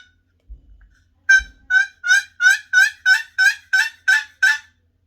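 Turkey yelp played on a box call, a steady run of about eight evenly spaced, raspy two-tone notes, loud and close with nothing else behind it.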